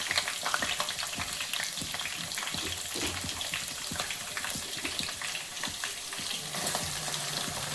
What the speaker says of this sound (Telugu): ఇప్పుడు చక్కగా ఇవి కొంచెం వేగిన తర్వాత అప్పుడు ఉల్లిపాయలు వేసుకుందామండి